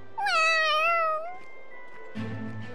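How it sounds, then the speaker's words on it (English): A fat cat in the Tales of Xillia 2 video game gives one long, clear, drawn-out meow, close and loud, followed by quieter game sounds. "You hungry, fat cat?"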